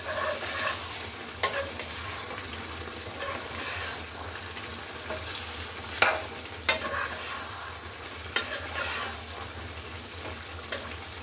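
Duck meat and coconut stir-fry in a pan, a low steady sizzle punctuated by sharp spatula scrapes and knocks every couple of seconds, close and with no talking.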